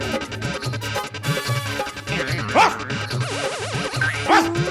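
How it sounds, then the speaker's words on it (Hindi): A dog in a Taarak Mehta Ka Ooltah Chashmah comedy scene barks repeatedly and close, mixing sharp barks with yips and whimpers in an uneven, excited rhythm. "कुत्ता? आपके घर कुत्ता भी है?"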